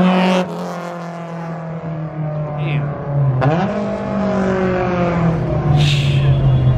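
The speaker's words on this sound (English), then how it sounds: "There's still cars on cars on cars pulling through." Cars roll through a Santa Clara Cars and Coffee meet, engines rumbling and revving up close with a sharp rising rev partway through, and a voice briefly exclaims over the noise.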